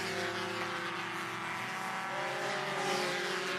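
A 180-horsepower Mazda MX-5 Cup race car spins celebratory donuts at Mid-Ohio Sports Car Course, its engine roaring loud and steady with continuous tire squeal and no talk over it.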